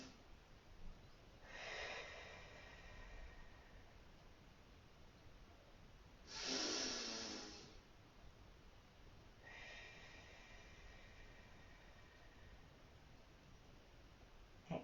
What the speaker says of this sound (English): take a few nice deep breaths